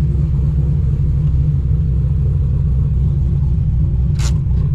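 A cammed C6 Corvette rumbles low and steady while driving, a constant deep engine drone heard from inside the cabin without talk.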